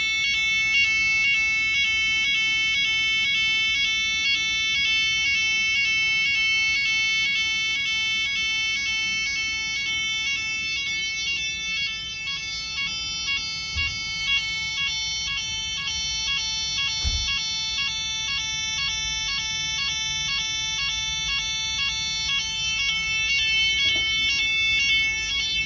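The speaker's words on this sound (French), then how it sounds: "Oh là là, qu'est-ce qu'elle est vieille cette sirène." An old Siemens fire alarm siren sounds inside a care home, a loud, continuous electronic wail of stacked tones that holds steady for the full stretch with no talking over it.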